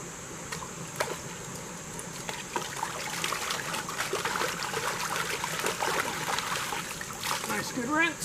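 Outdoors at a catch-and-cook camp, a pan is swished and rinsed with water, sand and small pebbles, making close trickling, sloshing and splashing sounds with a faint muffled voice at times.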